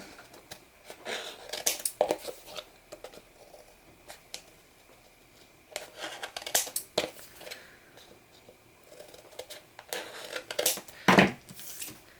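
Scissors snip and crunch at an angle into the corners of paper or chipboard for a watercolor rainbow craft, in several brief close bursts separated by quiet pauses.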